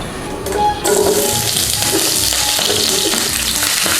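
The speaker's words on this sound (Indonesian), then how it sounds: "Kita tumis perbumbuan ini hingga harum." Spices for Singkawang-style meatball broth hit hot shallot oil with a sudden loud hiss, then settle into a dense, continuous sizzle with faint stirring clatter, close and without talk.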